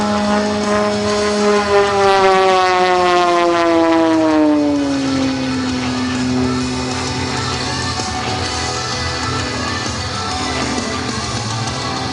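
A propeller-driven aerobatic airplane performing at an air show, flown into a knife-edge spin toward the ground, its engine drone loud and sliding steadily down in pitch as it dives and passes, with no talk.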